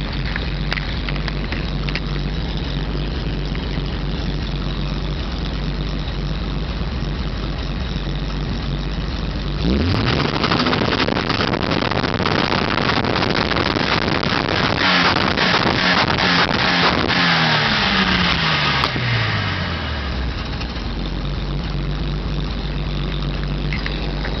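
A 35-year-old Datsun 280Z idles roughly and steadily before being revved hard twice, each blip swelling loud and close, then dropping back to a low, uneven idle.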